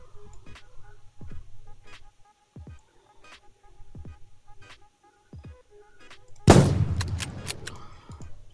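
Gunfire in the video game Unturned comes as a series of sharp, separated single shots spaced about a second apart, followed by a louder, denser burst of rapid fire and rumble near the end.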